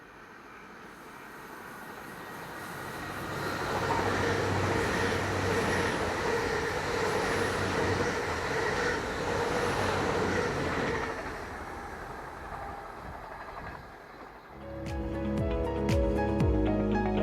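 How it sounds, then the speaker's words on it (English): An LNER Class 800 IET train on the Aberdeen to King's Cross service passes by, a broad rushing roar that swells over several seconds, holds, then fades, heard from trackside at moderate distance. "the 752 from Aberdeen to King's Cross, formed by Class 800 IET, set number 109."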